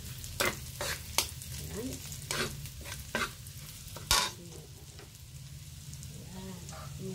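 Mung beans (monggo) cooking in a pan, with a run of sharp stirring scrapes and clatters over a steady low sizzle. A brief spoken word comes near the end.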